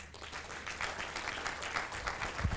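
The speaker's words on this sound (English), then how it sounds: "clap for him" An audience at an international academic conference claps for a professor and lecturer, a steady, moderately loud patter of many hands with no talk over it.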